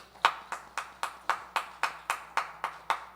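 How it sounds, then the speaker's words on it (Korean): About a dozen slow, evenly spaced hand claps at a church youth service, crisp and fairly close, each ringing briefly in a roomy space with no voices. "그동안 수고해주신 부장 선생님께 박수 한번 드리겠습니다."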